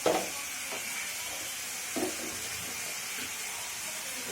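Masala spices fry in oil in a pan for a brinjal and drumstick curry, a soft, even sizzle with a couple of faint stirring clicks.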